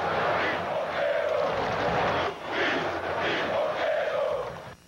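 São Paulo football supporters in a stadium jeer and protest their team after a defeat, a loud, sustained crowd roar of voices rising and falling in waves.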